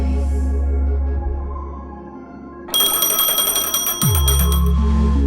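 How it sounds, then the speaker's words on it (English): An electronic phone ringtone kicks in partway through, a bright repeating trill over a steady low hum, stopping briefly with a downward swoop before the hum resumes. "A phone."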